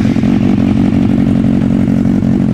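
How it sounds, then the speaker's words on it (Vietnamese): Sport motorcycle engine, a Triumph 675 or Kawasaki ZX6R, held at a loud steady idle-rev with rough, crackling pops of backfire through the exhaust, close and continuous. "anh em thấy nó backfire cỡ đó."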